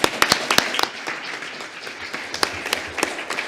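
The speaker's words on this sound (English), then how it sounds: "So let's give them a round of applause." A modest audience at a livestreamed talk with Rabbi Ted Falcon claps steadily for a few seconds, sharp individual claps standing out from the crowd's patter, without voices.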